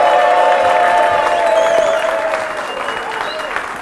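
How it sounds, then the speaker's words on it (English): An audience claps and cheers loudly, with a sustained roar of applause and whoops that eases a little toward the end while a voice carries over it. "Let's clap for our ladies and gentlemen."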